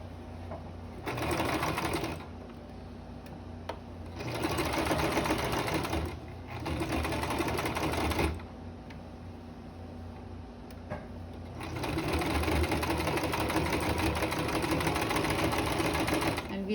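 A sewing machine stitches the seams of a fabric mask, running in several steady bursts of a few seconds each, separated by short pauses, with a longer continuous run at the end.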